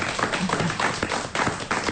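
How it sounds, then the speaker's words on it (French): Studio audience applause on a French radio-TV talk show, a loud burst of dense clapping with uneven swells, close and continuous, no voices over it. "on vous remercie, on vous applaudit"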